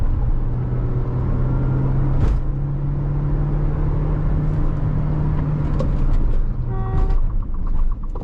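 A Tata Sierra Hyperion with a 1.3-litre turbocharged engine hums steadily on the road during a road trip, a loud continuous cabin rumble with a brief click and faint chimes near the end.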